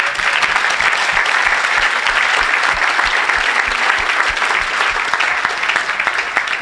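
A church congregation applauding and cheering for the Lord at a miracle service: dense, continuous clapping from a crowd, loud and sustained, with a few voices mixed in.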